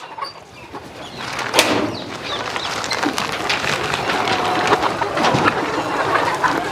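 Chickens of RIR and Sonali breeds clucking on a desi chicken farm, a continuous dense mix of scattered clucks and bird calls over steady outdoor noise, with no talking.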